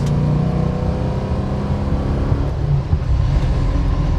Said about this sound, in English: Goes down the road great to 60 mile an hour